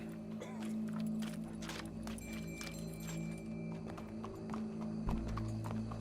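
Horse hooves clip-clopping in Red Dead Redemption 2, a steady rhythmic walk over a busy low background hum, with faint voices and scattered knocks mixed in.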